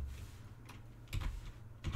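Typing on a computer keyboard during a Linux install: a few light key clicks in short, uneven bursts, close but soft, with no talking.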